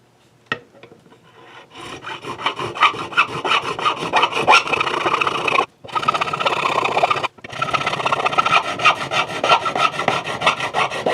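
A fret file is drawn across the frets of a secondhand guitar being built into a partscaster, producing a dense run of close, rapid rasping strokes with two brief pauses in the scraping.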